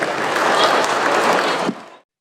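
Audience applause at London Comic Con, a dense, loud burst of many hands clapping that holds steady and then cuts off sharply near the end.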